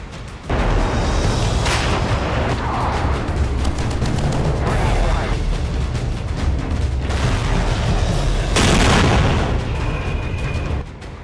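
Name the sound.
gunfire and artillery fire from the Pakistani army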